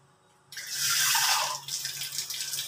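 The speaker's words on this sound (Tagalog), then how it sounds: "Ngayon, tapos lagyan natin ng tubig." Water poured into a cooking pot while making a stuffed chicken dish, starting abruptly as a loud close splash and rush, then thinning into uneven trickling and splatter.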